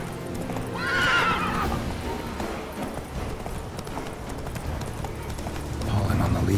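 Roach, a horse in The Witcher 3, gives a sharp neigh near the start, followed by steady hoofbeats that continue throughout, with some lower game ambience and a few louder bursts near the end.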